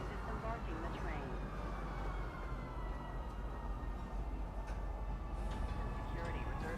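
A metro train arriving at Metro Center station in Star Citizen, a faint, steady rumble with a rising whine while a voice announces over it.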